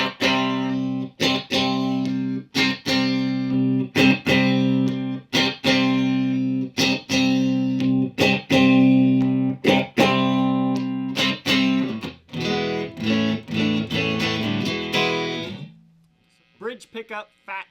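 A 1982 Fender The Strat with a walnut body, played through its bridge pickup on a fat-sounding setting, strums rhythmic chords, sharp strokes in a steady pattern, before a last chord rings out and a few notes follow.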